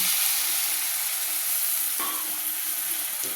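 Spices frying in oil give a steady, close broadband sizzle throughout as hot water goes in for an ol chingri dalna, with a brief sharp crackle partway through and no talking.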